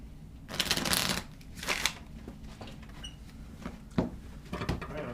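Playing cards being shuffled for the board game Patton Leads the Way, two quick riffling bursts close up followed by softer taps and shuffling of the deck on the table.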